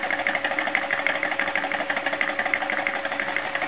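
A homemade thermoacoustic engine, heated by an alcohol burner that is running out, chugs in a fast, even mechanical rhythm, loud and close with no talk.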